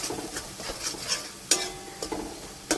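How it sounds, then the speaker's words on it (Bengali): Ground cumin, coriander powder, salt and turmeric fry in a pan for jhinge chingri posto, with a soft sizzle under repeated scrapes and clinks of a spatula stirring, several sharper knocks standing out close by. "ভালো করে মশলাটা আমি কষিয়ে নেব"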